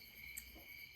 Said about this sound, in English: on the stage where I can hear crickets